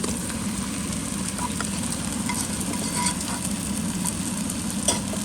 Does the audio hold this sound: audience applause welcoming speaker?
no